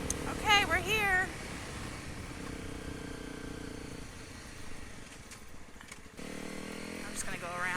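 Honda 250 L Rally motorcycle moving slowly through woods around a barn, a steady low engine drone held at an even level, with a brief rising whine near the start and a louder stretch at the end.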